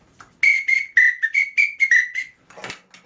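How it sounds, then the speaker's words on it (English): A samba whistle played as part of a washboard rig gives a string of about eight sharp, loud, close blasts with brief gaps between them, then a short breathy burst at the end. "I got a samba whistle"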